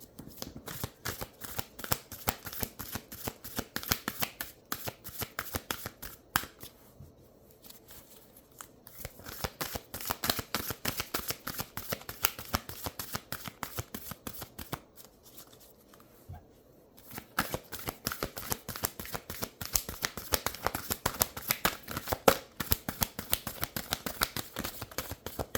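Tarot cards are shuffled by hand in a steady run of crisp, riffling flicks, close and fairly quiet, broken by two short pauses before the shuffling resumes.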